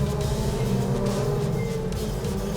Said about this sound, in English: Pace car, safety car speeds up.